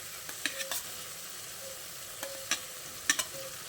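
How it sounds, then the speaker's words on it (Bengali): Fried potatoes being mixed into spice masala for a vegetarian eggplant dish, with a quiet background sizzle and a handful of light spatula clicks and scrapes in short bursts. "এবার আমি এর মধ্যে ভেজে রাখা আলুগুলো দিয়ে দিচ্ছি।"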